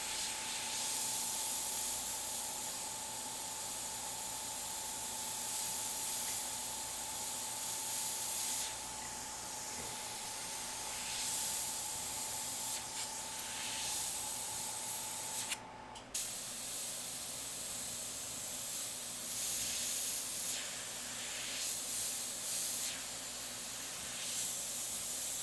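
Airbrush hissing paint over a stencil: a continuous soft airy spray running nearly the whole time, broken by one short pause, with a faint steady tone underneath and no voices.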